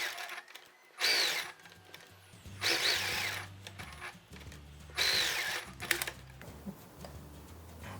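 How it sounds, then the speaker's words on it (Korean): A sewing machine stitches a label onto washed linen outer fabric for a phone strap pouch, running in three short bursts with quiet pauses between. "이제 봉제해 볼게요."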